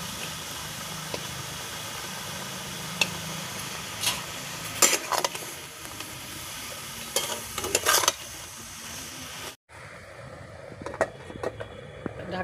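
Shrimp and ridge gourd sautéing with salt in a pan, a steady sizzle with intermittent scrapes and stirring clatters, close and fairly loud, then quieter near the end.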